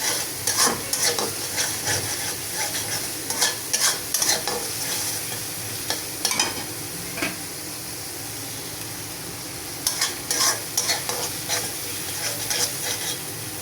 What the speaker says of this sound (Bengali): এইগুলোকে এখন সুন্দর করে ভেজে নেব, যাতে মশলার কাঁচা গন্ধটা বের হয়ে যায়।